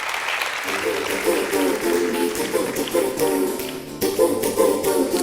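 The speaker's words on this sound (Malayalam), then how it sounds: "ഓക്കെ ഓക്കെ, കൈയടിച്ച് പാസ്സാക്ക്." Studio audience at a Malayalam TV comedy show with actress Namitha bursts into sustained applause and clapping, dense and continuous across the whole stretch, with music and voices mixed in underneath.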